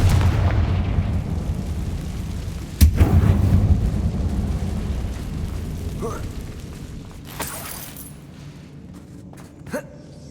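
A Confringo spell explodes in Hogwarts Legacy with a sharp booming burst, followed by rumbling game ambience and smaller impacts, under a spoken voice.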